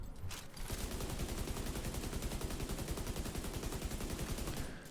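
Rapid, sustained automatic fire from an MK rifle in The Division 2, a dense unbroken burst of shots lasting several seconds, loud and close, with no talking.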